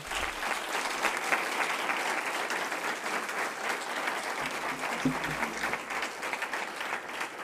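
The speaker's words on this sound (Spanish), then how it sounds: "vamos a darle un aplauso a todos los que han participado, que se lo merecen" An audience at an entrepreneurship awards ceremony in Fuenlabrada bursts into loud, sustained applause, many hands clapping steadily for several seconds with no break.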